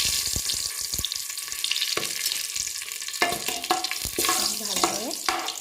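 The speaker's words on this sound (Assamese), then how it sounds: "এতিয়া এইখিনি মই তেলতে দি দিম আৰু এয়া তেজপাত দিছোঁ" Whole spices, including cardamom, and a bay leaf frying in hot oil: a steady bright sizzle with scattered crackles and small clicks, growing busier and louder toward the end, with no talk.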